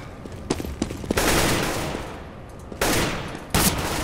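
Counter-Strike: Global Offensive gunfire comes in rapid automatic bursts, loud and close, with a few separate shots early on and then longer sustained volleys broken by brief pauses.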